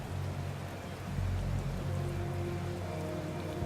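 Steady rain falls at night in the video game Kingdom, a soft, even hiss of drops with a faint low rumble underneath, continuous and moderately quiet with no voices.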